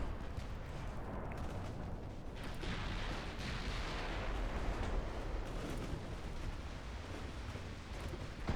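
Heavy cruiser 8-inch main guns fire in a naval battle in the Ultimate Admiral: Dreadnoughts game, a dense continuous roar of booming salvos and rumbling blasts over the full stretch, loud and steady with no talk.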